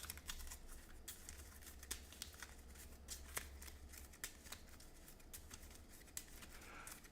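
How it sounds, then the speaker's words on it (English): Marvel Champions playing cards shuffled into a draw deck, a steady close riffle of quick papery flutters and light snaps running throughout, with no talking. "Shuffle them back into our draw deck."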